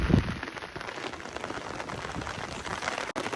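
Heavy downpour in Lushala village pours as dense, constant hiss of rain on surfaces, with gusting wind adding rough low rumbles, loud and continuous with a brief dropout near the end.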